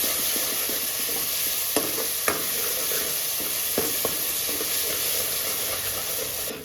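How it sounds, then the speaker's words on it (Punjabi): Onion masala being stirred and roasted in a pan for a boiled-potato curry, with a steady sizzle throughout and a few sharp scrapes and clinks of the spoon against the pan. "ਚੰਗੀ ਤਰ੍ਹਾਂ ਇਸ ਨੂੰ ਹਿਲਾ ਦੇਣਾ ਇਸ ਨੂੰ ਆਪਾਂ ਬ੍ਰਾਊਨ ਹੋਣ ਤੱਕ ਪਿੰਕ ਹੋਣ ਤੱਕ ਆਪਾਂ ਭੁੰਨਣਾ ਚਾਹੀਦਾ ਹੈ"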